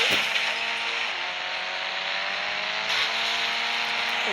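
A car engine in the IBD3D mobile driving game whines steadily at high revs, its pitch sliding down and then climbing again, loud and close without any talk.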